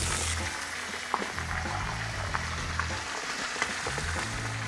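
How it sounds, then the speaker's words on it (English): Salmon skin fries in hot oil for Navajo fry bread tacos, giving a steady close sizzle with faint crackles and a few small pops, and no talking. "So we're gonna fry these for a while."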